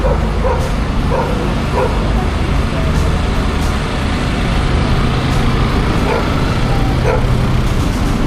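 A tied-up dog barks several times at a distance over constant traffic and outdoor rumble in central Odesa, with generators droning, the barks short and spaced out.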